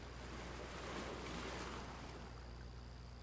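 Water ambience in the video game The Last of Us Part II gives a soft, continuous wash of waves and surf with wind, even and unbroken throughout.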